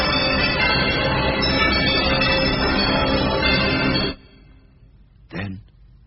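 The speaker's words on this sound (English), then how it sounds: "it rang out loudly, and so did every bell in that huge empty house" Bells ring loudly and continuously as a dense metallic clang for about four seconds, then cut off abruptly, followed by one brief, fainter strike.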